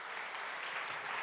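A church congregation applauding steadily, a dense wash of clapping hands with no voices standing out.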